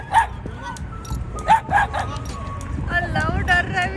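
An aggressive, mischievous dog barks sharply at a timid dog in a few short, loud bursts, with whimpering between them and people talking throughout.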